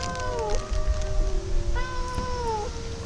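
Cats meowing up close: two long, drawn-out wavering meows, one after the other, over a low background rumble with no talking.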